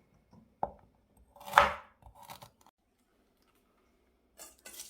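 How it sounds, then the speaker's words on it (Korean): A knife chops washed ginger into small pieces on a board: a few sharp, scattered cuts, quiet and close, with pauses between them. "깨끗하게 씻은 생강을 조금 잘게"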